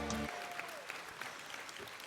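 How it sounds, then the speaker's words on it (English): A conference hall crowd at the 2019 CBTU gathering breaks into steady, moderately distant applause just after a brief voice, with the clapping continuing evenly to the end. "Let's give Michael a great round of applause."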